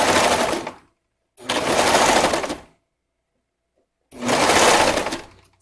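A sewing machine stitches swimsuit fabric in three loud, steady bursts of close, whirring motor hum, each about a second long and separated by silent pauses.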